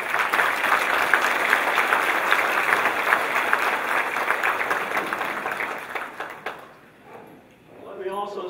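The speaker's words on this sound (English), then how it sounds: "A round of applause." A room full of event guests claps in a loud, sustained round of applause that fades near the end, with talk and murmur rising as the clapping dies away.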